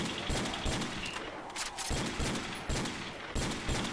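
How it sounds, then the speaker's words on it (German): Desert Eagle pistol fired in a custom zombies video game: a steady series of loud, punchy shots about half a second apart, each with a short echoing tail, no voices. "Schieß mal das Desert."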